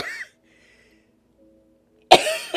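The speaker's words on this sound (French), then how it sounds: "Petite toux." A short, close cough breaks a quiet pause in a French-language talk, with a brief sound just before it.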